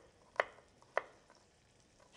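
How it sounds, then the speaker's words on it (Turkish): A knife chops garlic on a cutting board with three crisp, isolated knocks spaced about half a second apart, close and fairly quiet against a soft kitchen background, with nobody talking. "Ondan sonra da sarımsağımızı tekrardan ortadan şu şekilde keselim."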